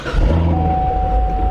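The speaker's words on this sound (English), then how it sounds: "let's go ahead and start up the car, and it is in track mode right now" A 2016 Corvette Z06 with the Z07 package fires up in track mode on its stock exhaust, a loud, deep engine roar that holds steady with a thin high whine running through it.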